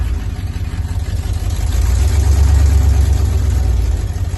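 A cold 1994 truck engine idles close by while it warms up, a loud, steady low rumble that swells slightly partway through.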